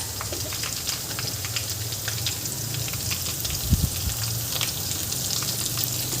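Ginger, garlic and green chili paste sizzles and fries steadily in a hot pan for an aloo palak bhaji, a constant close crackle with a brief stirring knock midway and no voices.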